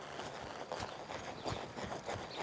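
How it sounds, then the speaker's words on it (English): Hooves of a horse trotting toward a barrel in a riding arena, a faint, steady rhythmic clip-clop of hoofbeats heard at a distance. "I'm going to trot my horse up there."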